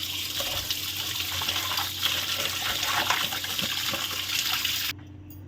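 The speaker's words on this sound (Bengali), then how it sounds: "মাছের আঁশগুলোকে পরিষ্কার করে ছাড়িয়ে নিতে হবে আর একবার জল ধোয়া করে নিতে হবে" Fish being washed in water, a continuous close splashing and gushing of running water that stops abruptly near the end, steady and fairly loud.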